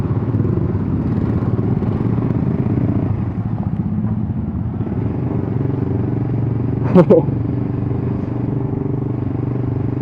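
A rare motorcycle fitted with an aftermarket racing exhaust rumbles steadily with a loud, raspy exhaust drone, and a voice talks over it throughout.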